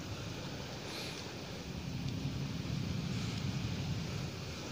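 Steady, continuous wash of sea waves with wind noise buffeting the microphone, no distinct breakers standing out.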